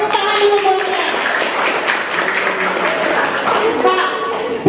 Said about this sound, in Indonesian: Tepuk tangan dulu buatnya.